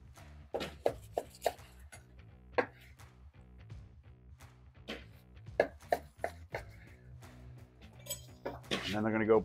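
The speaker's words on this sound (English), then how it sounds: "we're gonna slice good steak size here" A knife slices a rested ribeye steak on a board, with a series of crisp individual cuts at an irregular pace and a few louder thuds, heard up close under a person talking.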